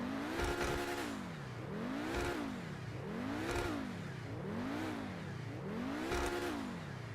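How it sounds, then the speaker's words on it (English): A Pegassi Torero XO sports car engine in GTA Online revs up and down repeatedly in smooth rising and falling sweeps, loud and close, with a synthetic game-like quality. "Let's take a listen to that engine."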